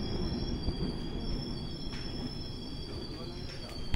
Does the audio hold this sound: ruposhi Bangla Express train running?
yes